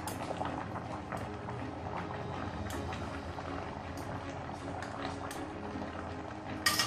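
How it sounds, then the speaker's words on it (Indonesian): Tofu and tempeh bacem simmering in its liquid to reduce it, Javanese style, a steady low bubbling boil that runs evenly throughout, close and moderately loud with no talk. "Ini akan aku susutkan airnya untuk membuat tahu tempenya lebih gempi lagi"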